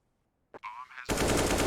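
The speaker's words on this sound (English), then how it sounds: "not that insane to hit the deagle headshot there" Desert Eagle pistol headshot in Counter-Strike: Global Offensive, on the Anubis map during a tournament match: a short burst of game sounds, then a loud, sustained roar of gunfire that fills the rest of the moment.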